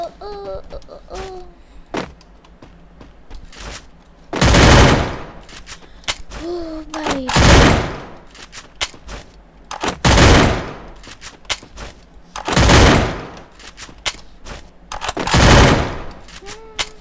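Gunfire rings out in a video game 1v1 match: four loud, sustained automatic bursts a few seconds apart, with a voice talking in the quieter stretches between them.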